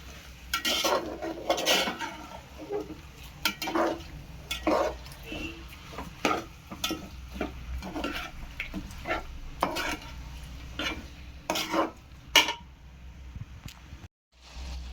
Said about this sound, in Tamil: இப்போ நமக்கு சிக்கனு நல்லா இந்த எண்ணெயிலே கொஞ்சம் வதங்கிடுச்சு.